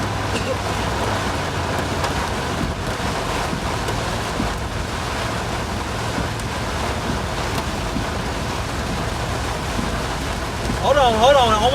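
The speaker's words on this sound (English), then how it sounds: "I'm getting ahead of this rain right now" Heavy rain drums on a car driving through a tornado-warned storm near Davenport, Iowa, a dense, loud, continuous wash with a faint rising whine near the end.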